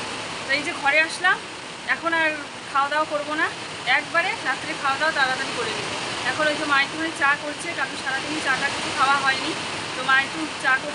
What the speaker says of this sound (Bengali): তোমরা হয়তো শুনতে পাচ্ছ আবার খুব জোর বৃষ্টি হচ্ছে